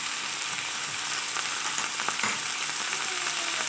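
Meat frying in oil in a pan with minced garlic, a steady close sizzle that fills the whole stretch, with a few faint scrapes underneath and no talking.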